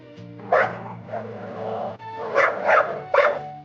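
A dog lets out a short series of yipping barks, two early and three close together near the end, each distinct and fairly close against a quiet background.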